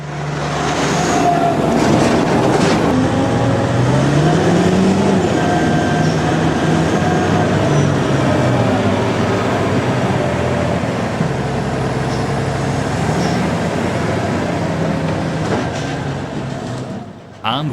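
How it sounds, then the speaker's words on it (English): A Kenworth C501 off-highway double tractor logging truck with a 600 hp Cat C16 engine, hauling a 175-tonne combination in Kaingaroa forest. A loud, heavy engine drones continuously, its pitch climbing early on before settling into a sustained rumble. "off-highway double tractors, such as this C501 Kenworth, operated by Shane Comer, George's son"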